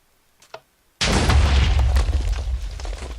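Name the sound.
TNT cannon firing and exploding in Minecraft video game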